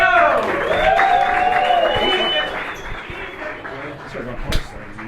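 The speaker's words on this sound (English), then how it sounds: "have a round of applause. That was our show" A comedy club audience in Barcelona applauds and cheers at the end of a stand-up show, a steady roar of clapping with voices mixed in that fades slightly toward the end.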